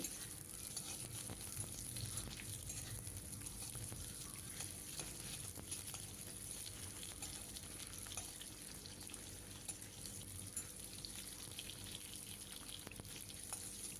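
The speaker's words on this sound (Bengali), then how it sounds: "পেঁয়াজগুলো কিন্তু খুব হালকা ভাজতে হবে, 1 মিনিটের মতো ভাজবো" Two medium-sized onions frying lightly in a pan give a steady, soft, close sizzle that hisses evenly throughout, with faint stirring and no talking.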